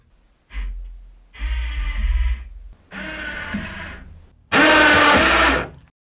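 Motorized test rig loading a pocket knife lockback with a fiberglass reinforced nylon handle, running in several separate bursts of mechanical whirring and grinding that grow louder toward the end, with pauses between.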